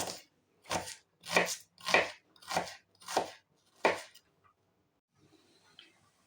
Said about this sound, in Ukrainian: Цибульку також нарізаємо довільно, як вам до вподоби, я буду отакими напівкільцями.